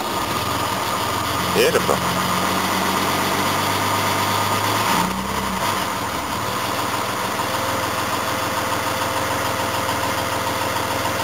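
A car engine, just given a new battery, runs at a steady idle close by, a continuous loud hum that barely shifts, with a person speaking briefly over it.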